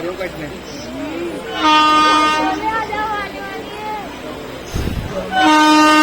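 A train overtaking on a parallel track at around 80 km/h, a steady rumble of wheels with two loud, long horn blasts, heard from a passenger train with a voice talking over it.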